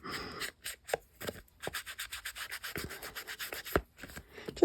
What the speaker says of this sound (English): Just something to scratch it up a bit, so that whatever you glue on it sticks a little better